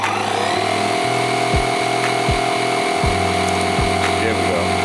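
A DeWalt cordless tire inflator pumps up a car tire from a low pressure, giving a steady motorized drone and whine broken by regular pulsing compressor strokes, loud and close.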